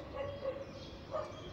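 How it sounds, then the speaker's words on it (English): A small dog on a street in China gives two faint, distant yapping barks about a second apart over quiet background hum. "Some dog is barking, little dog is barking here."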